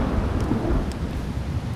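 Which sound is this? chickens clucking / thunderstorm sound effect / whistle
thunderstorm sound effect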